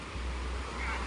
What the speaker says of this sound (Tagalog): Parang namalaki yata ang alon ngayon